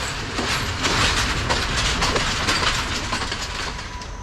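A rough sleeper train rumbles steadily along the rails at night, a loud continuous roar with rattling wagon noise and faint repeating clickety-clack from the wheels throughout.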